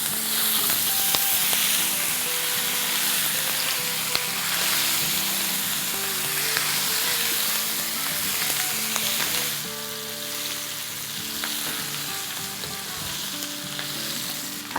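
Mutton raan, a whole goat leg, frying with masala in a pan over a medium flame: a loud, steady sizzle runs throughout, broken by occasional stirring scrapes, with no voices.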